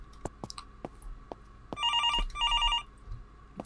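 A telephone rings in the horror video game Infliction. Two bursts of electronic ringing come close together, preceded by scattered clicks and knocks in a quiet room.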